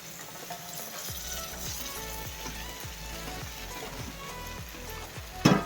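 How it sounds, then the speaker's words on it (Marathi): Onion and washed puffed rice sauté in a pan, sizzling steadily with soft stirring scrapes and a sharper clatter near the end. "छान परतून घेणार आहोत"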